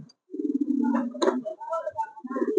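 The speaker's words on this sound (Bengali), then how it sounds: "তাই আপনাদের জন্য আজকে আমি গিরিবাস কবুতর নিয়ে আসলাম" Giribaz pigeons coo softly nearby in low, rolling throaty calls, with a few short gaps between the phrases.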